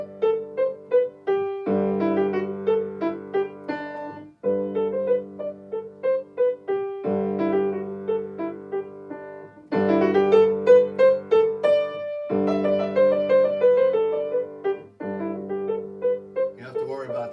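A solo piano plays a dainty, light musette in phrases separated by brief pauses, with a steady left-hand accompaniment under a bright melody, clear and close with no talking.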